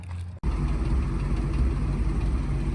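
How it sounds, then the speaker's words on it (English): A Ford F100 truck engine with headers and dual 3-inch exhaust starts and settles into a steady, low, rumbling idle that stays even throughout. "It's really quiet at idle, which is pretty cool."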